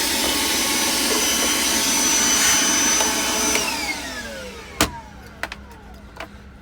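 A Milwaukee M18 Fuel cordless wet/dry vacuum runs with a loud, steady whining roar, then is switched off and winds down with a falling pitch, followed by a few sharp clicks and knocks.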